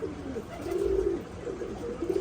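Soft, low pigeon coos repeat in a slow rhythm, fairly close, as pigeons fly in, with faint background noise and no talking.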